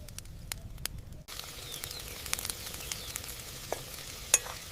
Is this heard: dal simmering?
yes